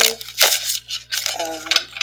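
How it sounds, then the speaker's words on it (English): Tarot cards shuffled by hand during a love reading, a few quick papery riffles and rustles in short bursts, close and fairly loud, with a voice briefly present. "And I'll just shuffle a couple times."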